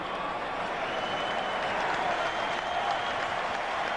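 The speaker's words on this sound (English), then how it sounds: "Biggest cheer of the night so far." A stadium crowd cheering at a Rugby World Cup match between South Africa and Georgia, a dense, sustained roar and applause from a distant mass of spectators, steady throughout.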